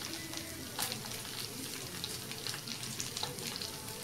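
Mustard seeds popping and frying in sesame oil with onion, chili and curry leaves for Kerala nadan inchi curry, a close, steady sizzle dotted with small sharp pops.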